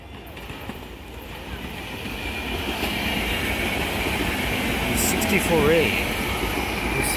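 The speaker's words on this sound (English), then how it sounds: "a limited train heading for Warminster. Not a Silver Liner 5, but a Silver Liner 4" A SEPTA Silver Liner 4 regional rail commuter train rumbles past close by, a steady rolling roar that builds gradually, with a brief squeal near the end.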